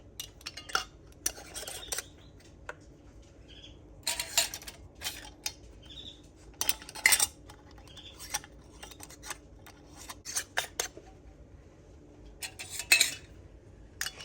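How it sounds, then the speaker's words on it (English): Metal lids and rings are set onto glass canning jars of bruschetta topping, giving sharp, scattered clinks and clicks at irregular intervals, close by and fairly quiet. "Okay, so we'll put the lids on."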